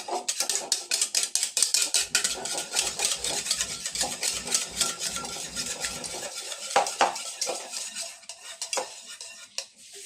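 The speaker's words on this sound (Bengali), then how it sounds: "দইটা আমি ভালো করে ফেটিয়ে নিচ্ছি" Sour yogurt is beaten briskly in a pot for mango yogurt. A spoon or whisk strikes and scrapes the pot in rapid, rhythmic strokes that loosen and slow toward the end.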